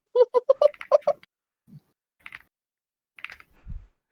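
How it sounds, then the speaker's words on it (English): A loud computer keyboard clatters in a quick burst of about a dozen key clicks, then falls mostly quiet apart from a few scattered, fainter taps and short noises. "I still love how much money you spent on quiet keyboards, and you now have the loudest one"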